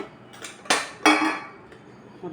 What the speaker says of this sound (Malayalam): അരച്ച് വെച്ച തേങ്ങയും കൂടെ ഇങ്ങോട്ടിട്ട് ഇളക്കണം.